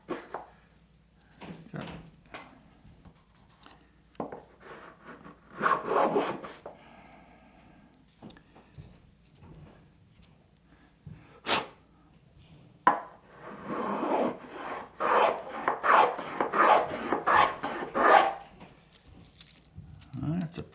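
A Jorgensen 102 low-angle block plane cuts thick shavings from untreated Southern Yellow Pine in a series of close, rasping strokes, sparse early on and then quicker and denser, with speech between the passes.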